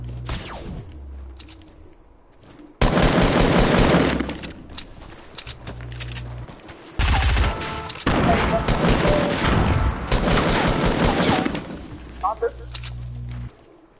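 Bursts of rapid gunfire and sharp shots crack through a sniper-themed shooting video game, loud volleys starting and stopping over several seconds, with players talking between and under the shooting.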